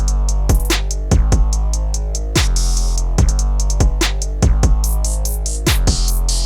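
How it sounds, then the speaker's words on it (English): Rage beat drum loop built in FL Studio with a punchy kick, crisp snares and hi-hats over a heavy distorted 808 bass, loud and steady with no talking. "So now with the drums, it's gonna sound something like this."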